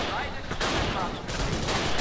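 A grenade blast in the Dino D-Day multiplayer video game, heard amid loud, dense gunfire and chaotic combat noise, with a couple of sharp bursts in quick succession.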